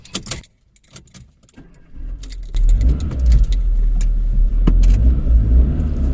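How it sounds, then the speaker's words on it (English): A car engine cranks and restarts after stalling, a few clicks and rattles followed by a loud, steady low rumble of idling that continues to the end, with no talking. "Now I've stalled the car."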